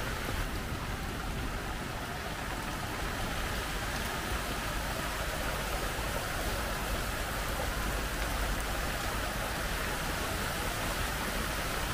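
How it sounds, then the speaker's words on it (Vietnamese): Rain falls steadily on a newly built rural hut during a fish-catching trip, a soft continuous patter that stays even throughout with no speech. "bị ướt mưa luôn."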